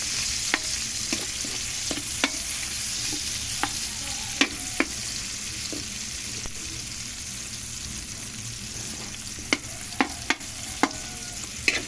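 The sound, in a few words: ricado sautéing in cooking oil for mung bean dish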